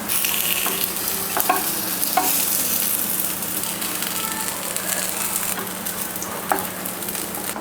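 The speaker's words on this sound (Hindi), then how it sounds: "अब इसे फ्राई करते हैं।" Ragda patties shallow frying in desi ghee, a steady close sizzle and crackle running throughout with occasional spatula scrapes and small pops.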